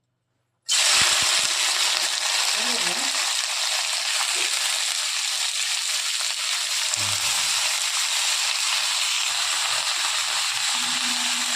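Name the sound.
beans, squash and potatoes frying in hot oil in a wok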